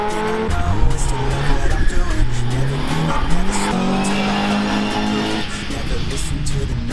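Large-engine race cars roar loudly through an autoslalom course, with engines revving and shifting pitch and tires squealing, all blended under continuous music.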